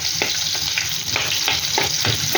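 Garlic frying for adobong sitaw, a steady loud sizzle with rhythmic stirring scrapes repeating about every half second, close up and with no talking.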